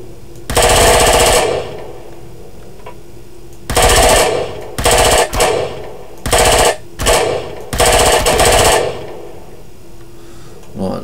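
Pistol fire in the Empyrion Galactic Survival video game comes as loud, close bursts of rapid shots separated by short pauses, with gaps of quieter game ambience between them.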